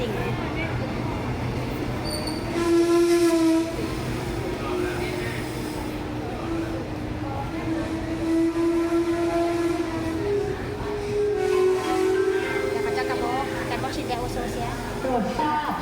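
A passenger train sits at Udon Thani railway station in Thailand, giving a low rolling rumble with several drawn-out tonal horn or whistle notes, while voices and announcements carry over the top.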